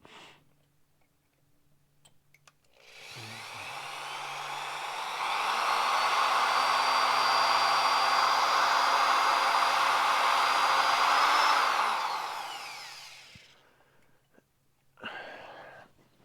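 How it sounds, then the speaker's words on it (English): A power drill boring a pilot hole into a broken bolt in a garage, a steady loud whine that ramps up, holds for several seconds, then winds down, with brief clatter before and after. "Let's get the drill on the other bolt."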